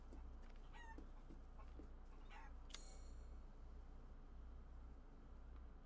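Chickens in Resident Evil Village give short, sparse clucks and squawks over a steady low in-game ambient drone. One sharp, brighter squawk stands out near the middle.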